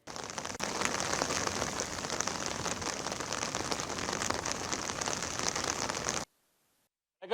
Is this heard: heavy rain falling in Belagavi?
yes